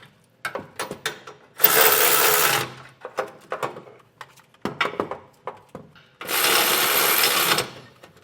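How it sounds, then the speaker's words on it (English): A power tool with a 3/4 inch socket drives bolts down on the center section of a Curt EZr double lock underbed gooseneck hitch, two loud sustained whirring bursts set between clusters of sharp metallic clicks and clanks, nearby and without speech. "This will be a 3/4 inch socket, so we'll just snug these down."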